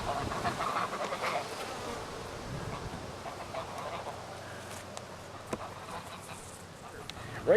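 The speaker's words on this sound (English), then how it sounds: "Otherwise these are worker bees, mostly females." Worker honeybees, mostly females, buzz in an open active hive, a soft steady drone of many insects with faint brief clicks and shuffles, low and continuous throughout with a small bump at the end.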